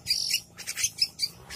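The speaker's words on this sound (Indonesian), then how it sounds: "Ini burung jalaknya" A young myna (jalak) bird kept as a pet chirps in a series of sharp, close, high-pitched calls, about six short bursts with brief gaps between them.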